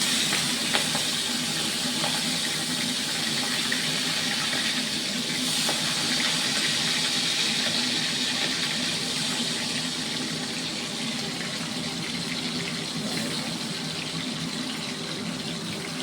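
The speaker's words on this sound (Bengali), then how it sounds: "তেল গরম হয়ে গেছে, কাঁকড়াটা দিয়ে দেবো।" Crab added to hot oil in a pan: a steady, loud, broad sizzle and hiss runs unbroken throughout, with no voices.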